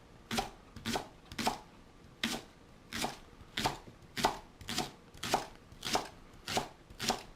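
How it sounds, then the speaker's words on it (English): A knife cuts leeks into small pieces on a board, about a dozen crisp, evenly spaced chops at a steady moderate rhythm, close and clear with no talk. "on your leeks, of course you're going to discard the bottoms, and we are going to cut them into small pieces like so"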